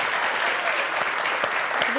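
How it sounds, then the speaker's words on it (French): Studio audience of a French television game show applauding, a steady dense wash of clapping filling the short moment at moderate level, with a faint tonal sound rising near the end. "Allez, on va vous applaudir très fort"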